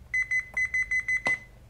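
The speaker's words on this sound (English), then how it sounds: "if we set this voltmeter to continuity test, meaning whenever these are touching or are electrically connected" A voltmeter set to continuity test beeps when its probes connect: a rapid series of short, bright electronic beeps in a steady pulsing rhythm, close and clear, with a couple of brief clicks mixed in.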